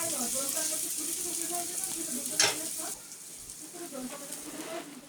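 Small-cut potato pieces frying in a pan, giving a steady bright sizzle with a brief clatter midway while a voice murmurs faintly underneath.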